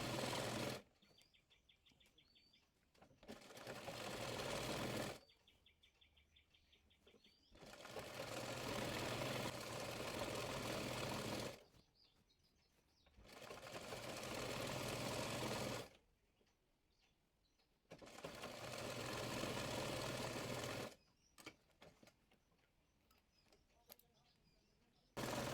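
A sewing machine stitches elastic onto palazzo fabric in loud, close bursts of rapid mechanical chatter. Each run lasts a few seconds and is followed by a quieter pause.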